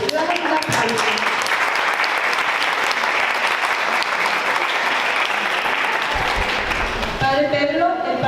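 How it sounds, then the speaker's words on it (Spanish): A conference audience in Guadalajara applauds in welcome of a priest, with dense, steady clapping that fades near the end as a voice begins speaking. "Le damos un aplauso."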